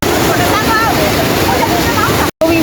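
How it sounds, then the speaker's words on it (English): A waterfall roars in a steady, broadband rush, loud and close, with voices speaking faintly over it and a brief dropout near the end. "We have reached the waterfall."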